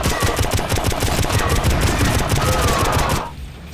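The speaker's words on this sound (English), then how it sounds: "That thwipping sound effect as ninja stars are rapidly ejected is satisfying as hell." Rapid-fire thwipping bursts from the Electro Driver in the video game Painkiller as it ejects a fast stream of ninja stars, a loud, dense mechanical rattle that runs continuously and then cuts off near the end.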